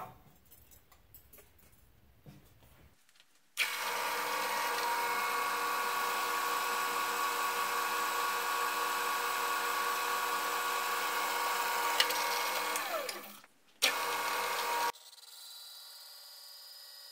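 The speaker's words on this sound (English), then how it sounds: "That horrible noise is just the chuck rubbing against the aluminum." A drill chuck grinds against aluminum in a steady, harsh, high-pitched scraping that runs for about ten seconds, stops abruptly, then returns briefly, loud and close with no talk.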